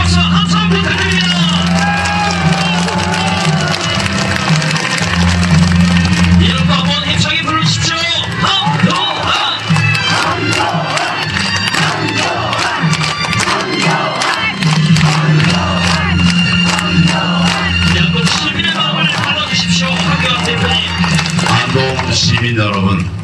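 A large crowd at a Liberty Korea Party political rally in Andong cheers, shouts and applauds loudly and without a break, a dense roar of voices mixed with rally chants.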